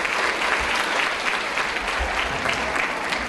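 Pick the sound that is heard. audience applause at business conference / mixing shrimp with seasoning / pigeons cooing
audience applause at business conference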